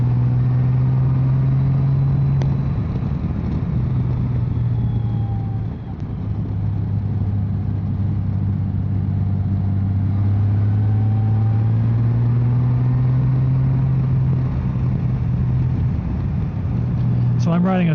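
A 2023 Honda Goldwing Tour motorcycle climbs the rough, worn mountain road of Route 276 at Caesar's Head, its engine a steady low drone mixed with wind rush throughout.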